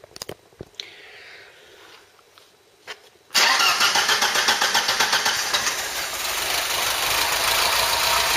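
A cold Ford Cortina Mk3 engine being started: a few clicks and a short cranking whirr, then the engine catches and runs with a rapid rough pulsing beat that settles into a loud steady idle close by.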